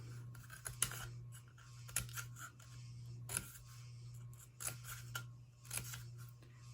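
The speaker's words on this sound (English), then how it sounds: "take one tube and a scissors, and you're just gonna cut little notches every 1/4 inch to 1/2 inch around the tube" Scissors snip notches around a cardboard tube, a series of separate crisp cuts spaced about a second apart, close and quiet over a low steady hum.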